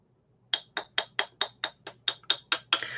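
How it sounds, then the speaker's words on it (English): Watch hammer tapping a small metal ring while shaping it, about eleven sharp, evenly spaced clinks in close succession after a brief quiet start. "And now I'm taking my watch hammer"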